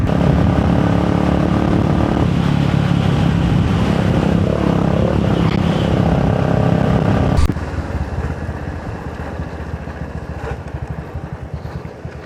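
A motorcycle rides the wet Agumbe ghat road in monsoon rain, its engine a loud, steady roar with rushing wet-road and wind noise that drops in level partway through.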